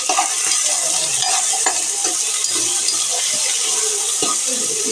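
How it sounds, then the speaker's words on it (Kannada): Cauliflower florets for gobi manchurian fry in a pan with a steady, dense sizzle and occasional stirring scrapes, continuous and fairly loud throughout, no talking. "ಈ ಕಡೆ ಗೋಬಿ ಫ್ರೈ ಮಾಡ್ತೈತೆ"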